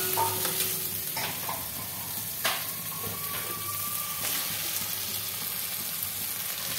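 Fish heads go into sizzling, reduced masala in a pan, a close, steady frying hiss broken by several sharp stirring scrapes and clinks, fairly quiet overall and without any talking.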